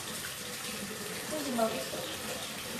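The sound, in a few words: water running from a tap into a sink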